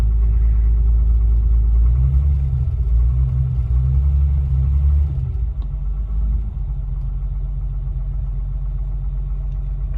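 An old, cold car engine idles with a loud, steady low rumble that stays a little rough for the first few seconds and then settles into a smoother, quieter idle.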